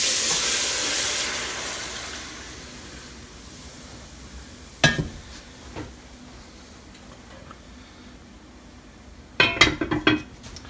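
White wine and meat drippings from country-style ribs are poured all at once into a hot roux, making a loud sizzling hiss that slowly fades, followed by sharp clanks of a utensil against the pan.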